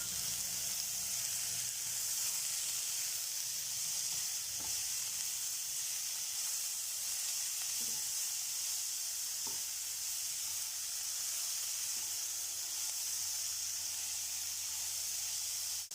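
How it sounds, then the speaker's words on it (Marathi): Green chilli and tomato pieces roasting in a pan for restaurant-style matar paneer give a steady, even sizzle and hiss throughout, with a few faint knocks and taps. "मी दोन मिरच्यांचे तुकडे करून घेतले ते पण भाजून घ्यायचे"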